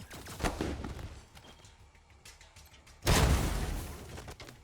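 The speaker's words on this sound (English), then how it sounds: "Time to check out your new pistol" Pistol shots in the video game Wasteland 3, a few sharp reports at the start followed by a louder burst of fire about three seconds in, with nobody talking.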